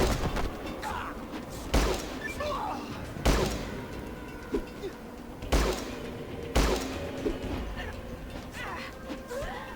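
Automatic weapons fire in the turn-based game Fallout Tactics, several loud bursts and thuds at irregular intervals over a busy background, with occasional talk over it.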